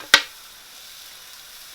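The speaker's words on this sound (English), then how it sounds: "we're just going to saute these for 3 to 4 minutes before we add the broccoli" Mushrooms and tofu sauté in a nonstick pan, with a soft, steady sizzle throughout and one sharp, brief clack near the start, heard close with no talking.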